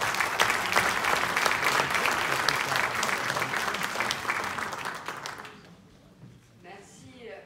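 Audience applause at an international conference in Paris on ending discrimination, held in a council chamber. The sustained, loud clapping of many hands fades out over several seconds, and a voice follows as it dies away.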